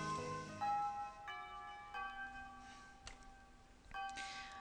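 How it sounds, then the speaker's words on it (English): Within a visual novel video game, a bell rings several times in quick clear chimes with lingering tones, spaced about a second apart over soft background music. "I am awoken by the sound of a bell ringing"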